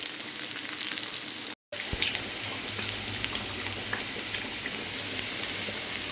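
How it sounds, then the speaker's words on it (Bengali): Potatoes frying with poppy seeds in a pan, a steady close sizzle running throughout with a brief dropout near the start. "আলু ভাজা চলছে পোস্ত দিয়ে"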